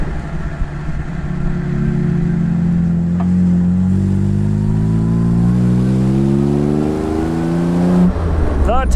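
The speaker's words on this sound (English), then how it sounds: "the S-Spec twin pipe exhaust, which in this case is actually a full flow polished stainless steel system" A 1959 Jaguar XK150S 3.4-litre engine breathing through a full-flow polished stainless twin-pipe exhaust. It idles, then revs up and down in smooth, rising and falling sweeps, loud and close, with a sharp blip near the end.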